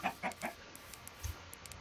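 Chickens in the Minecraft video game clucking in three quick close bursts, followed by softer scattered game clicks and a low thud.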